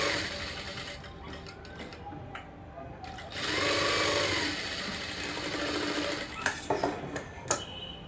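A sewing machine stitches a blouse lining, its quiet rhythmic whirring running in bursts with short pauses and small clicks, a voice talking faintly alongside.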